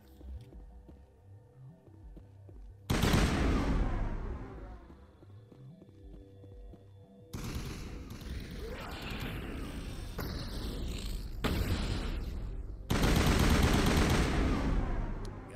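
Rapid assault rifle fire in a Mass Effect firefight comes in several loud bursts of sharp automatic shots, with quieter mechanical clatter and game music between the volleys.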